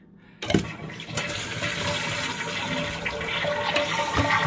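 A household toilet flushes with a sudden loud rush of water, then the tank keeps refilling with a steady hiss and gurgle close by.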